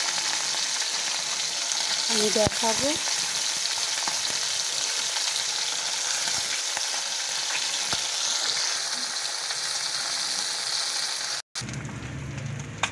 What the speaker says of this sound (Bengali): ছোট মাছ ভাজতে অনেকটাই টাইম লাগবে